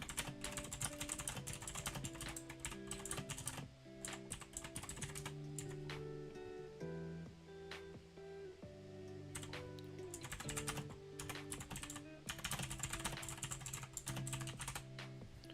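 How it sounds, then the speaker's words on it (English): Steady typing on a computer keyboard, with rapid clattering keystrokes running throughout, mixed with music-like tones from a game playing on a stream. "Sorry if the keyboard noise is bothering you guys."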